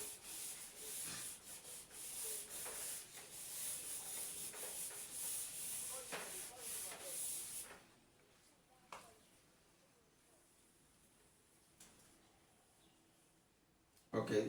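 A board eraser rubs chalk or marker writing off a classroom board in a steady, continuous scrubbing swish for several seconds, then stops, leaving near silence with a few faint knocks.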